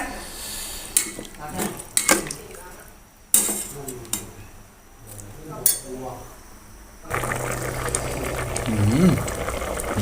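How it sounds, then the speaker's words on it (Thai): A pot of Isan eel curry boils hard, bubbling loudly with clinks of utensils against the pot and scattered sharp knocks, while someone talks over it in places. "นี่ครับเดือดมากเลย"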